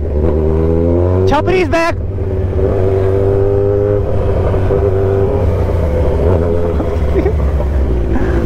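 A Z100 superbike revving hard at full throttle, its loud, steady engine drone held close and constant, with one brief sharp rise in pitch early on and a voice speaking over it.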